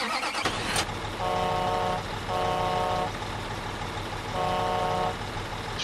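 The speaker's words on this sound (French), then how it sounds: "Pourquoi tu klaxonnes?" A truck horn in the video game Construction Simulator 2015 sounds in three steady, loud honks of about a second each, separated by short gaps, over constant engine and road noise.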